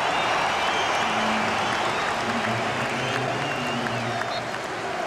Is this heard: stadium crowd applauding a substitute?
yes